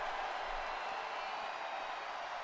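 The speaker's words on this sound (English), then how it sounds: "the crowd going absolutely crazy as they're getting their money's worth" A wrestling pay-per-view crowd roars steadily as the fight spills into the audience, a dense, sustained wash of cheering and noise with no breaks, moderately loud throughout.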